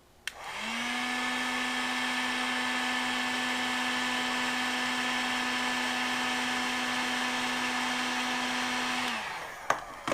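A heat gun blows hot air over shrink tubing during motorcycle repair work, a steady fan whir with a constant hum that starts, holds evenly for about eight seconds and then cuts off, followed by a couple of small clicks.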